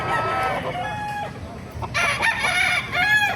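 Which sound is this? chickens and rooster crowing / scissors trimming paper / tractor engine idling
chickens and rooster crowing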